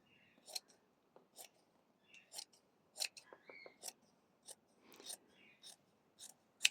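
Sharp scissor snips cut along fabric for a doll bassinet, a quiet close series of irregular crisp clicks with pauses between cuts, and soft murmured speech in the gaps.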